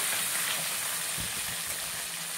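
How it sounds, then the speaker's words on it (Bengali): Fish frying in hot oil in a pan as they are flipped, giving a steady bright sizzle with a soft thump or two from the turning, close and alone. "মাছগুলো এখন উল্টিয়ে দেবো"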